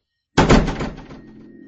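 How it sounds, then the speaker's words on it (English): A hand slams down loudly on a cardboard box in an attic, giving one heavy, booming thump that rings and fades slowly, with no voices. "She was slowly but loudly slamming her hand on one of the boxes, producing an unnatural sound."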